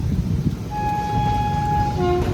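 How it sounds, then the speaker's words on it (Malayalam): An express train's horn sounds in a steady tone for over a second, then a shorter second note, over the constant low rumble of the moving train heard from on board. "അതേ ഓണടിയോടെ നമ്മുടെ ട്രെയിൻ ഇപ്പോൾ ആക്സിലറേഷൻ തുടങ്ങും കേട്ടോ."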